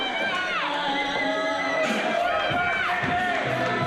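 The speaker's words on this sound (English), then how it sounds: "B-Boy now soaking up the adulation of this crowd." A wrestling crowd at a NEW event cheers and shouts steadily, a dense roar of voices and whistles that swells and holds throughout, while a commentator talks over it.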